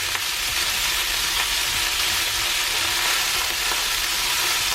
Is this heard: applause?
no